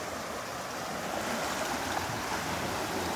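A flooded creek and river rushing after heavy rain, a dense, constant roar of fast water with no breaks, steady and fairly loud throughout.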